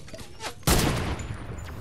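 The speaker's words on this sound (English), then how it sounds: "Are people shooting at me from up there?" Other players open fire in Fortnite: after quieter game noise, a sudden loud burst of gunfire erupts and carries on as a dense rattling fusillade, with a voice faintly present.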